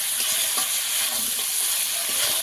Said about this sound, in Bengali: কিছুক্ষণ আমি ভালো করে কষিয়ে নেব তেল ছাড়া অবধি